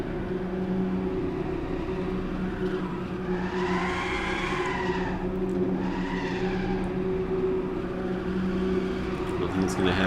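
Racing cars in Assetto Corsa sliding and squealing their tyres, two rising and falling skid screeches over a steady engine hum, with a player talking throughout.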